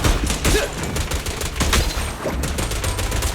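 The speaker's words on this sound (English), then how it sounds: "I forget that Billy's gun just doesn't stop." Nonstop rapid gunfire from a character's gun in the video game Zenless Zone Zero fills the whole stretch as a dense, loud, rattling barrage with no pauses.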